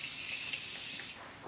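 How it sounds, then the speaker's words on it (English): A steady, close hiss of Morphe Continuous Setting Spray misting onto a face for over a second, then tapering off with a brief final puff. "now I'm just gonna spray my face with the Morphe Continuous Setting Spray"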